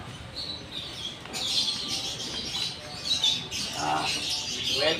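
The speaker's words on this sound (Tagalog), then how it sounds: "makikita natin yung mga ibon na magaganda na pwede nilang alagaan" African lovebirds chirp at a pet expo, a steady chatter of high, thin tweets from several birds over a busy hall murmur, with louder bursts near the end.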